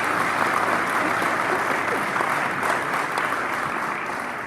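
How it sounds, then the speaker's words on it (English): An alumni reunion audience at The Webb School gives a steady round of applause, a dense, even clapping that holds for several seconds and tapers slightly at the end. "Let's give them a round of applause."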